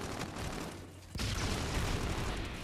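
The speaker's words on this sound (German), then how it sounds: "Alter Vater, was ist da denn explodiert?" Sudden explosion in the shooter game Call of Duty: Infinite Warfare, a single broad boom bursting in over steady game ambience and staying loud as a rumbling wash.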